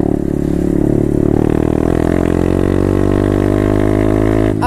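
A 125cc motorcycle revs hard at full throttle, a loud, close, buzzing engine note holding high and climbing slightly in pitch for several seconds before cutting off abruptly at the end, with no talk.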